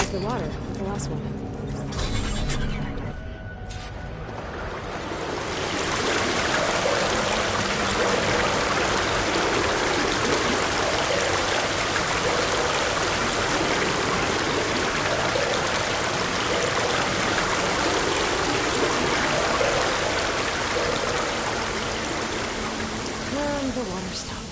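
Flowing water in Horizon Forbidden West, a steady broadband rush like a stream, loud and continuous after a brief quieter start with some clinks. It keeps pouring without pause.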